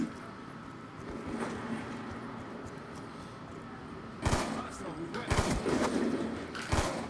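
Sharp gunshots in a first-person shooter trickshotting team deathmatch, a few loud cracks in the second half over a quieter game background, with players talking throughout.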